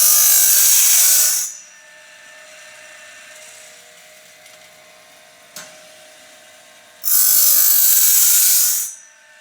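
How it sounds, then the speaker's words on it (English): An automatic sawmill blade sharpener runs in bursts: a loud, shrill grinding whine at the start and again near the end, with a quieter mechanical hum between and a single sharp click in the middle. "This is my automatic blade sharpener"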